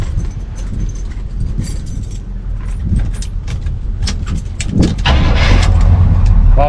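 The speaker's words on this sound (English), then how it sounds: "I just replaced the starter again. And I guess that's, we'll see how it's gonna fucking start." A truck engine with a newly replaced starter cranks and catches near the end, rising into a loud, steady rumble, with keys jangling and handling noises beforehand.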